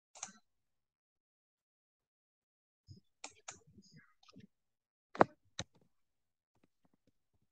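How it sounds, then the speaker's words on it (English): A computer mouse clicks sharply in a quiet room, one click at the start and then a small cluster of clicks and light taps a few seconds later, close and isolated. "Let's click done button."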